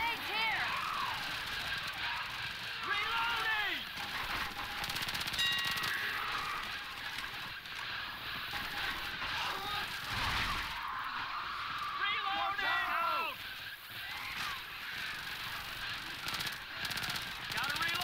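Automatic gunfire from a zombie video game, repeated bursts of rapid shots in the background under frequent player chatter.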